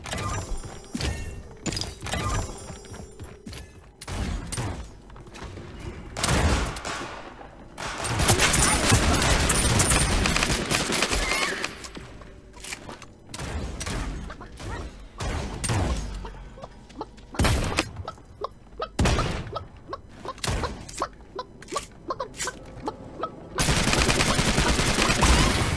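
Bursts of video game gunfire in Contender 4, rapid fusillades and machine-gun volleys cracking repeatedly at close to mid range, separated by brief pauses and thuds, with loud sustained stretches of shooting.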